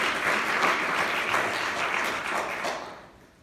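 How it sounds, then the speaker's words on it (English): A town audience applauds its Planning Commission at a 2019 State of Purcellville address. The clapping is full and steady for about three seconds, then fades out. "Give a round of applause to our Planning Commission for their work"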